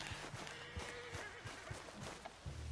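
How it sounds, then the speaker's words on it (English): Horse in the video game Red Dead Redemption 2: a run of quiet hoof clip-clops in an uneven walking rhythm, with a brief whinny-like cry, all faint and somewhat distant. "What's wrong with this horse?"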